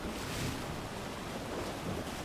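Rising flood waters and surging waves, a steady, loud broadband rush of water and wind that holds without break and with no voices over it.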